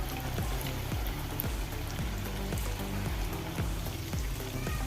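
Chicken pieces fry in a pan over a full gas flame, giving a dense, even crackle and spatter that stays loud and close throughout with no voices.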